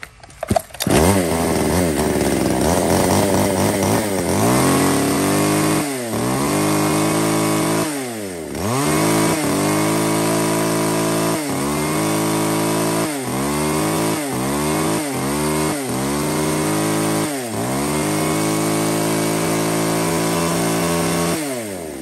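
A used chainsaw from a lot of Japanese brands such as Stihl, Husqvarna, Echo, Shindaiwa and Makita runs loud and close, its two-stroke engine repeatedly revving up to a high whine and dropping back to idle.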